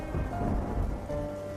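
Heavy winter rain pours steadily while a low thunder rumble rolls beneath it, a dense continuous wash of sound with no one speaking.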